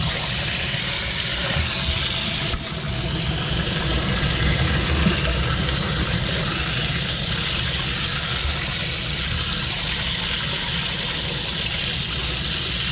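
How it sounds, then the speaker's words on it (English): A garden-hose water spray blasts at high pressure against an Intex pool filter cartridge during cleaning, giving a steady, loud hiss and rush that grows a little fuller partway through as more water is turned on, with no talking. "I'm going to turn on some extra water for some more pressure."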